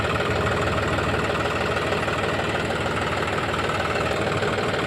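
A John Deere 5210 tractor engine, working in a field with a single reversible plough, a loud steady diesel rumble with a dense, even throb throughout and no talk.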